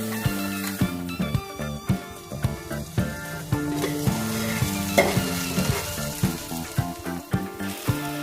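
Chopped onions and thinly cut tomato sizzling in a pan for a leafy-greens tempering dish, a steady loud fry broken by frequent rhythmic scrapes and clinks of a stirring spoon against the pan, with no voices.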